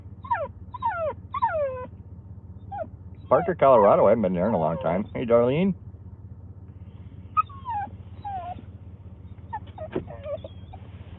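A dog whines in repeated high, rising-and-falling whimpers, with a long loud stretch of whining in the middle, while a person talks nearby at a train depot in Alaska.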